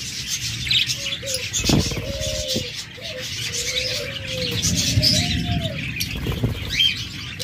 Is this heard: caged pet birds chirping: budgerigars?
yes